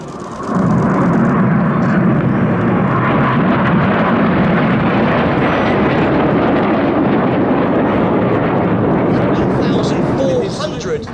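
Red Arrows jet aircraft fly a close formation aerobatic display at an air show, a loud, continuous roaring rush that swells in and holds for several seconds before easing off.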